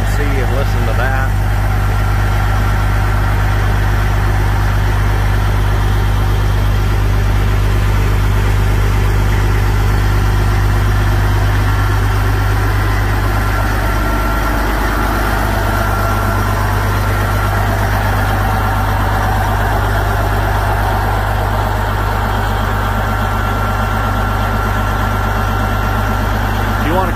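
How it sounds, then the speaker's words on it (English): A deep, steady diesel engine of a 2016 Freightliner Cascadia 125 semi truck idling close by, with a constant low rumble and throb and someone talking over it. "I took a video of the engine."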